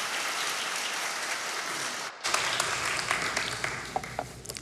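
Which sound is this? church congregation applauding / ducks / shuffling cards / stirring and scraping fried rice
church congregation applauding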